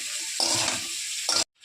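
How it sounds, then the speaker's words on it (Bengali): Bottle gourd with salt, turmeric and green chili sizzles in a hot pan, a bright steady frying hiss stirred at close range, then cutting off abruptly. "লাউটা ভাজা ভাজা হয়ে গেছে"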